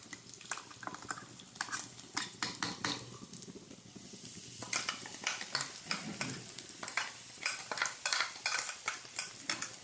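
Crushed coconut, bird's eye chilli and garlic sizzle steadily in a pan while a spoon stirs with repeated sharp scrapes and clinks, close and fairly loud.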